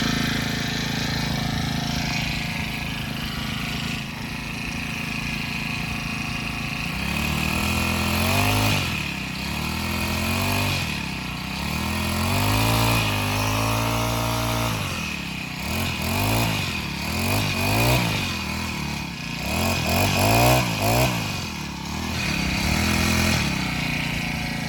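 A four-stroke grass cutter engine idles with a buzzing rattle, then revs up in several rising and falling bursts as the throttle is squeezed, close by and outdoors with no talk.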